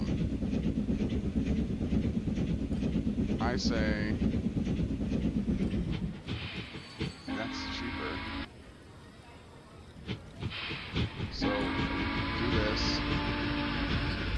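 A train runs on rails in the video game Transport Fever with a rumbling, clattering roll and intermittent mechanical clicks. The sound shifts and fades midway and then resumes, while someone talks briefly over it.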